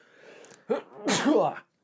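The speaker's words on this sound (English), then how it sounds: "Let's sneeze." A person sneezes once up close: a sharp intake of breath followed by a loud, explosive burst, with brief voice sounds just before.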